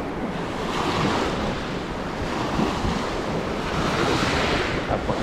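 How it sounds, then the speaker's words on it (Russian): Sea waves break on the shore at Yalta in Crimea with a loud, continuous roar of surf that swells and recedes, mixed with wind rushing across the microphone, and no voices. "Волны, смотрите, какие."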